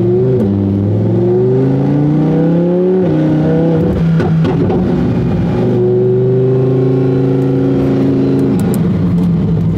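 A car engine revs hard and loud, its pitch climbing in long sweeps, dropping briefly, then surging again in a sustained near roar.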